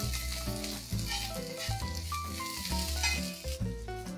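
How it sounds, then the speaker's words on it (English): Garlic and ginger paste sizzle and sauté with golden onions in a pan for Mumbai street-style masala pav, a soft, steady frying hiss beneath louder background music. "I'm going to add a teaspoon of garlic paste, a teaspoon of ginger paste. I'm just going to saute this till the raw smell goes off."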